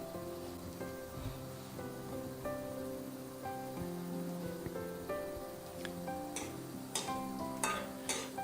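Cashew nuts frying in ghee over a low flame, with a steady close sizzle, stirring clinks, and a few sharper scrapes near the end.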